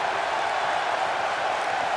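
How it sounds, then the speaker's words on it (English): A crowd roars and cheers steadily in a WWE 2K17 wrestling match as a wrestler pumps up the arena, a dense, uniform wash of noise with no breaks. "Rachel Sampson getting the crowd pumped up here"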